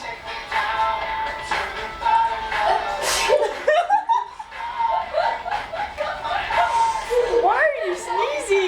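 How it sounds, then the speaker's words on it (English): A tipsy young woman sneezes in sharp bursts, close and loud, mixed with giggling, laughter and ongoing chatter. "Why are you sneezing?"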